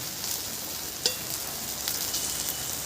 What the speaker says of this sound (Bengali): এপিট ওপিট করে ভালো করে ভেজে নেব।